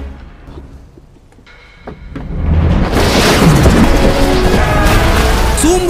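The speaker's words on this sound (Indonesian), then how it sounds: "ledakan pun terjadi dan duar" A heavy explosion in a detective action story erupts after a quieter lead-in, swelling into a loud, sustained rumbling roar with crackling debris that stays strong to the end.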